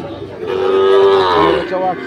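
A Sahiwal bull calf at a rural cattle market gives one loud, close moo lasting over a second, a strong tonal bellow rising and then tapering, with market bustle faint behind it.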